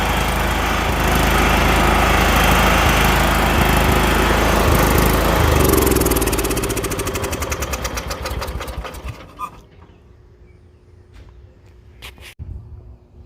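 A John Deere lawn tractor engine runs loud and close with a steady rough drone, then shuts down and coasts to a stop with slowing knocks, leaving quiet with a few faint clunks.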